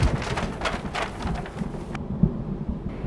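A thunderstorm with heavy rain rolls over a ship at sea, a dense steady wash of rain with low thunder rumbles, a sharp crack near the middle, and a sudden drop in the hiss partway through while the rumble continues.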